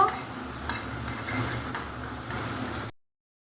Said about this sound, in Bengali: ছোটো কড়াইয়ের মধ্যে একটু পেঁয়াজ দিচ্ছি হাফ, আর দিয়ে দিচ্ছি 1 চামচ ঘি দিয়ে একটা বেরেস্তা তৈরি করে নেব